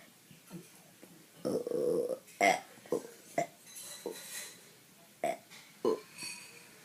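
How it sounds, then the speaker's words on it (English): A series of burps from one person indoors, several short loud belches and one longer drawn-out one, spaced irregularly across a quiet room with faint background noise. "There's some burps."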